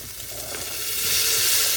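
Tomato pieces dropped into fried onions in a pan for moong dal khichdi, letting out a loud close sizzle that swells and hisses steadily, with no talking.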